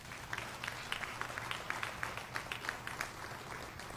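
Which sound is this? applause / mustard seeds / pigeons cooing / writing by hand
applause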